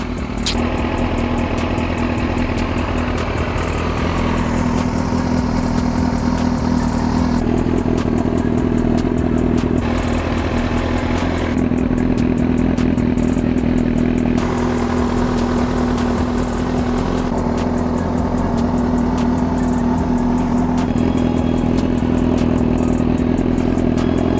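Yamaha R6 sport motorcycle engine running after a long layoff, a continuous steady idle with a strong constant drone and slight shifts in tone, close and loud, no talking.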